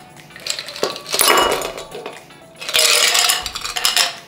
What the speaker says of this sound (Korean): 자, 먼저 얼음을 부어줍니다.